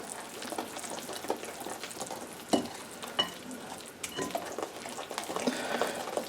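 A spoon steadily stirs a melted butter mixture for German stollen in a pot, giving a continuous soft scraping and swishing with small clinks against the pot, close and alone without talk.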